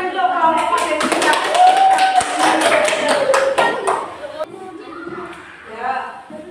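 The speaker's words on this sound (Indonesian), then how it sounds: "Tepuk tangan untuk kelompok kode 3" A classroom full of students claps for a student group, quick uneven hand claps over chatter and a long sung or called-out voice, then the clapping fades and speech carries on alone.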